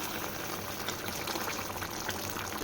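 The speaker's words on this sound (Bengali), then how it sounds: "এবার এর মধ্যে একটুখানি জল ঢেলে দেবো, গরম জল" Hot water is poured into a pot of chicken curry, a steady liquid splashing and bubbling hiss lasting a few seconds, close and moderately quiet with no speech.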